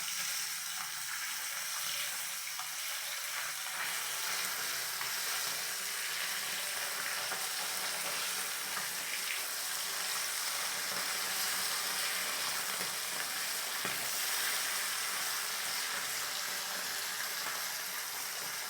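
Bata fish pieces frying in oil after being turned over, a continuous loud crackling sizzle with spitting bursts, close up and unbroken throughout.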